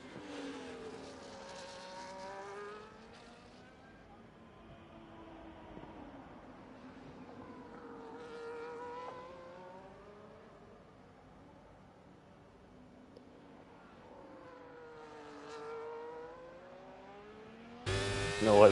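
Sim racing in an F1-style esports race at the Hungary circuit, with a Haas among the cars: engines rise and fall in pitch as they rev through gears and pass, in three clear waves, under a commentator's continuous talk.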